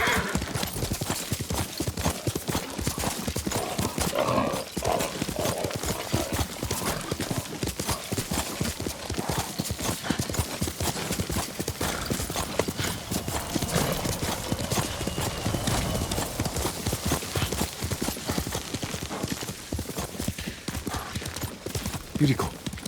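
Horse hooves from Ghost of Tsushima keep up a steady, rapid galloping clip-clop for the whole stretch, loud and close, with occasional combat sounds and snatches of voices mixed in.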